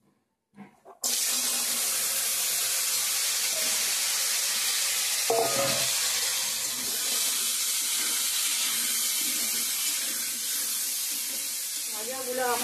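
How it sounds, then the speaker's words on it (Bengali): Beans and carrots fry in a pan with a continuous hissing sizzle that starts abruptly after a second of quiet, with occasional stirring knocks and a watery wash-like edge throughout. "বিনস ভাজাগুলো এখন করে নেব,"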